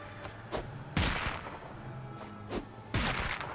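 Bursts of video game gunfire from South Park: Fractured But Whole aimed at red targets: a sharp shot, then a louder volley around one second, and two more bursts later, each decaying quickly.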